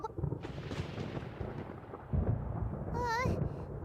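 A thunderstorm in the video game Genshin Impact rumbles with deep booming thunder and crashing bursts, loud and close, with a rising electronic whine near the end and voices under the noise.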